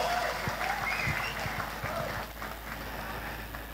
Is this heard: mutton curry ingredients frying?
no